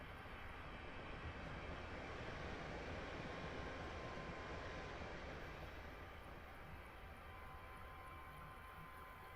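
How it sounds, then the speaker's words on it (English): Train in a Train Simulator game approaching a road crossing, heard as a faint, continuous broadband rumble and hiss that holds steady throughout, without clear horn or bell, no talk. "The train is coming."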